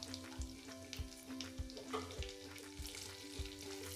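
Cashews frying in ghee and oil for a sweet vegetable pulao, a steady close sizzle with a low hum running underneath and soft, regular stirring knocks of a spoon against the pan.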